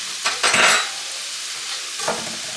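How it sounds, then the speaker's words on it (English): Artichokes sautéing in a hot pan, two short bursts of sizzling and stirring close up, with quieter gaps between. "So the artichokes going next. I'm going to saute these."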